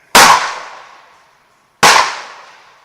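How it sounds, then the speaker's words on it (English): Two loud, sharp rifle shots fired while zeroing an ATN X Sight II scope, each a sudden close crack followed by a fading outdoor echo, spaced under two seconds apart. "Let's take another shot."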